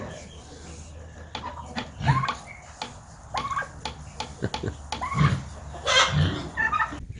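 Turkeys, two hens and two toms, gobble and cluck nearby in scattered bursts, with other fowl calls mixed in and some voices in the background.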